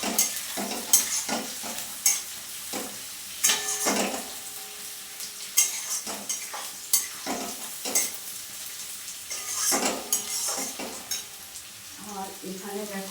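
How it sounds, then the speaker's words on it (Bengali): Curry leaves hit hot oil for tempering in a wok, giving a steady close sizzle broken by repeated scraping strokes of a spatula against the pan. "কড়াতে ফোড়নে একটু কারি পাতা দিয়ে"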